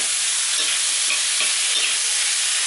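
Thai red-sauce fried rice sizzles loudly in a hot pan over high heat while being stirred and tossed, a continuous bright crackle with occasional scraping.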